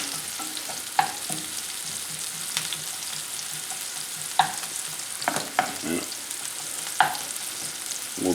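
Onions caramelizing in a frying pan sizzle steadily under occasional stirring, with a few sharp clinks of the utensil against the pan.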